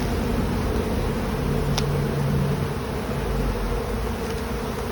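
Honey bees swarm around a hive frame lifted out during a September inspection, a dense continuous buzz that stays loud and close throughout, with a brief faint click midway.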